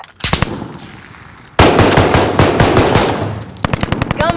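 Rapid machine-gun fire in a video game, loud and close. A few opening shots lead into a long, dense automatic burst, which then thins into separate spaced cracks.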